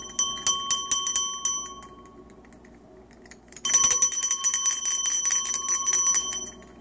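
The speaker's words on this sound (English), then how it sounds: "Is that your breakfast bell?" A small bell rings in quick repeated strikes, pauses for a couple of seconds, then jingles again in a rapid, continuous flurry.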